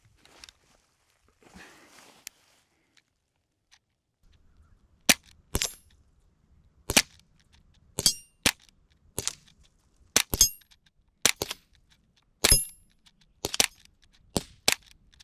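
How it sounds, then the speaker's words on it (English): Sig Sauer M17 .177 air pistol firing steel BBs from a prone position, a string of about a dozen sharp snapping shots at uneven intervals after a few quiet seconds, each crisp and close with faint metallic hits. "We're going to go prone and see if we hit targets with the steel BBs as well"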